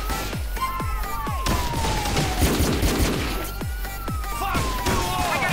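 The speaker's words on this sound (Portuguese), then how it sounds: "ele atira normalmente" Rapid gunfire from GTA San Andreas with modded Modern Warfare 3 weapon animations, sharp repeated shots in quick bursts over a continuous game background with faint sirens.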